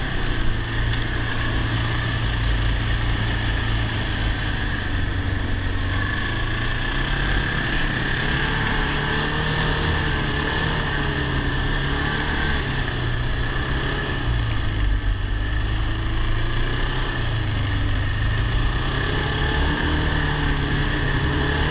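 A Ski-Doo Tundra snowmobile engine drones steadily and close by as the machine climbs up onto snow, a continuous revving hum with slight pitch swells and no talk.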